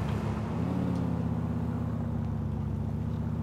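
Ford Crown Victoria police car engine in GTA IV hums with a steady low drone that rises slightly in pitch early on, then holds an even idle-like rumble, continuous and moderately quiet.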